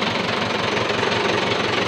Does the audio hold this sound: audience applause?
no